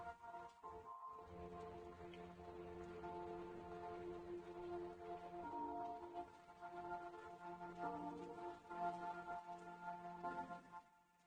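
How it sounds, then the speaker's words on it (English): Steady rain with a low rumbling thunderstorm wash, heard in a liminal-space walking game, faint and continuous with a tonal droning layer running through it and no talk. "This one I actually like, is the rain and the thunderstorm."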